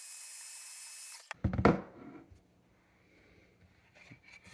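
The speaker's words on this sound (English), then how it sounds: "I'm just going to take my heat gun" A heat gun blowing hot air over a sanded, burned finish: a steady hiss and roar runs alone for just over a second, then cuts off, followed by knocks and handling noise.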